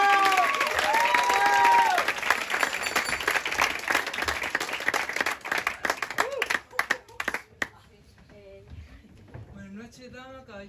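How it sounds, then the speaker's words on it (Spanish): Audience applause for an audition contestant, a loud burst of clapping and cheering from a crowd that thins into scattered claps before a voice and music take over. "¡Aplausos para ti!"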